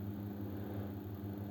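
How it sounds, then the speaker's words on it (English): An airplane drones steadily overhead, a continuous low rumbling hum with no gaps and no talk over it. "Airplane over here."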